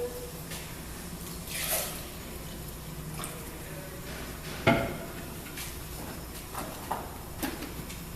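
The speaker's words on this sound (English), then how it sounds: "So now we're gonna just put more liquid into it." Liquid added to a deglazed cooking pot, a brief splash and gurgle followed by soft bubbling, drips and faint clinks of the pot in a quiet kitchen.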